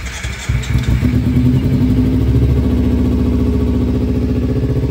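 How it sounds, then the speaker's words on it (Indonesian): A 2021 Kawasaki ZX-25R motorcycle engine starts with a brief crank and then runs at a loud, steady, high-pitched idle close by, with no talk over it. "Listing kita cek mesinnya guys"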